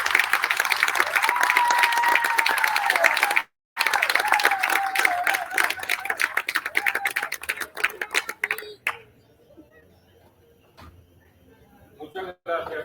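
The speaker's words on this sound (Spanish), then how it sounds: "Un fuerte aplauso." A crowd at a commemoration of the 1950 Puerto Rican Nationalist insurrection bursts into loud clapping and cheering with a few shouting voices, breaking off briefly, then fading to scattered claps and quiet room noise near the end.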